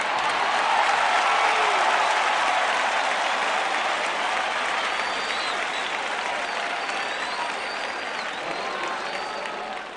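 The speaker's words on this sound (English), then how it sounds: "I got to wait for the cheering to stop" A stadium crowd in a college football video game cheers loudly and steadily after an interception, a dense roar of applause that holds for the whole stretch and fades slightly toward the end.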